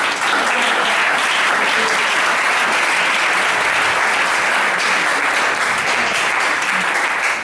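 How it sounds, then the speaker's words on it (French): A church congregation bursts into loud, sustained applause, many hands clapping densely and evenly throughout with no pause. "Vous pouvez partout acclamer pour Bethuel."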